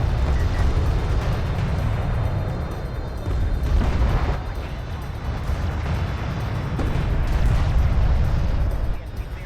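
An artillery cruiser is destroyed in Homeworld: Deserts of Kharak, heard as a continuous rumbling barrage of deep explosions and booming impacts, loud and dense, with brief swells of heavier blasts.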